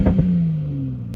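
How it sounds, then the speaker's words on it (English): A Toyota Supra Mk5 engine revved while stationary, a short, fairly loud burst that holds a steady note and then eases slightly lower, with no voices. "you can actually rev this engine right up to the red line even if you're stationary"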